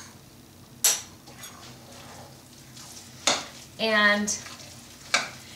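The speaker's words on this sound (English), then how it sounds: "Now we're going to stir it around" A spoon stirs a sweetened rice mixture in a pot, with a few sharp scrapes and clanks against the pot over a quiet background, one brief ringing knock midway, and a short spoken word.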